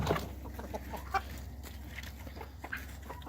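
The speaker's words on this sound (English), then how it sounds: "Right here we can see the chickens" Chickens clucking softly in the background amid steady low ambient noise, with a few scattered calls, while the birds feed on spent brewing grain.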